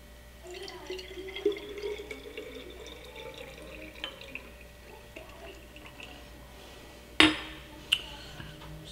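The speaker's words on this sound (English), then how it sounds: "We strain this bad boy into your beaker for optimal results." Beet and carrot juice cocktail strained into a beaker over ice cubes, a soft trickle with faint drips, then a sharp glassy clink and a second lighter one near the end.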